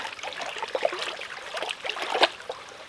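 Water swirling and trickling as a water filter bag is stirred and washed on the outside, soft gurgles and small splashes with a few brighter drips.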